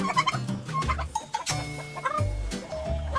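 Chickens on a farm in freezing winter cold cluck and squawk up close, in quick uneven bursts. Several birds call over one another and there are no voices.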